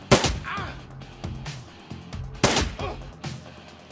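Pistol shots fired in the video game Shadowrun Returns: four sharp cracks spaced unevenly, each trailing a short echoing decay, loud and close with no speech.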